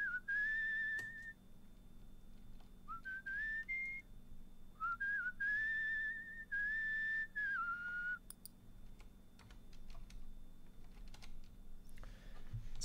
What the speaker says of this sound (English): Oh, they didn't hear my whistling.